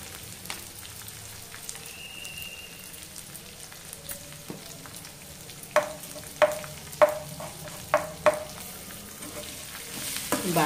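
Green chillies and asafoetida fry in a pan with a soft, steady sizzle, broken by a run of sharp spattering pops toward the end; the sound is close but fairly quiet, and nobody speaks.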